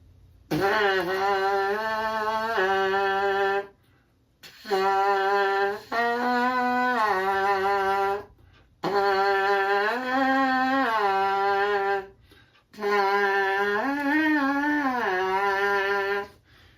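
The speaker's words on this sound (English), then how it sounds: "I'll do a little thing on my mouthpiece that sounds like this." A trumpet mouthpiece buzzes four short phrases of sliding, wavering pitches, each a few seconds long and separated by brief silences.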